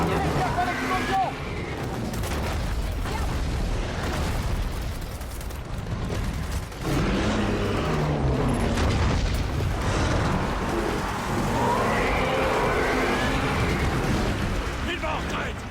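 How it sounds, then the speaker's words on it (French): Explosions and heavy gunfire from the video game Gears of War 4, a dense continuous roar of blasts and mechanical clatter with booming low end, loud throughout, with occasional player chatter over it. "Gaffe à l'explosion"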